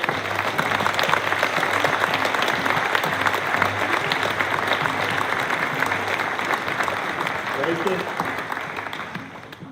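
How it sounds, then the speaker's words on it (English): An audience at a varsity sports awards program applauds student athletes in steady, dense clapping that holds for nearly ten seconds before easing slightly at the end, with a faint voice briefly audible underneath. "a round of applause."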